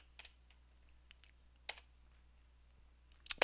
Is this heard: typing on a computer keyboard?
yes